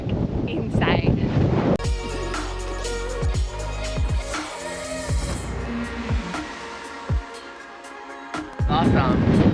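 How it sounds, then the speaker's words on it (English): Strong wind howls and buffets the microphone at an exposed lookout at the tip of Cape York, loud and gusting throughout, with voices heard briefly at the start and end. "The wind up here is absolutely howling,"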